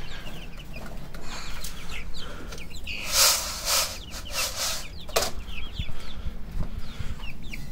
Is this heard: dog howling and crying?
no